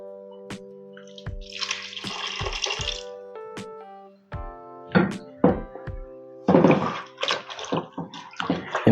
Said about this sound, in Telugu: మనం మటన్ కుక్కర్లో బాయిల్ చేసుకున్నామో సో ఆ వాటర్ అనేది వేసుకుంటున్నానండి